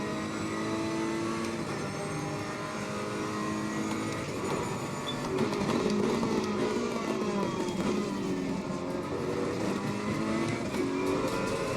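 A Ferrari 488 Evo GT3 race car screams down the long start-finish straight at Imola in Assetto Corsa Competizione, its engine note climbing steadily through the gears at full throttle, loud and continuous, with no talking.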